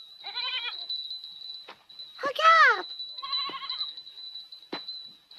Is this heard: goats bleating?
yes